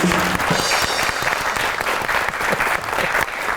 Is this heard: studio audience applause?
yes